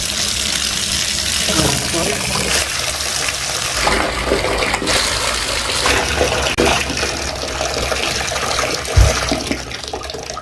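Hot water pours from a tub faucet into a bathtub and drains away, a continuous loud rushing and splashing with gurgling bursts, steady for the whole stretch.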